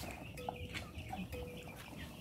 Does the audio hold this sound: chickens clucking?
yes